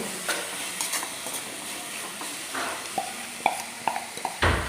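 Thick jaggery syrup being stirred and mixed for Kerala Vishu ada filling, soft scraping and sticky stirring clicks over a steady background hiss, close and moderate, growing busier toward the end.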